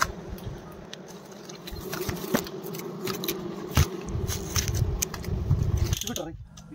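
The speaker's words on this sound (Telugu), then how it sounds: "ఇప్పుడు మీకు వినిపిస్తున్న శబ్దం కూడా జుంటి తేనెటీగల శబ్దమే" Rock bees on a tree buzz in a dense, continuous hum, with scattered clicks and rustles and some talking in the background.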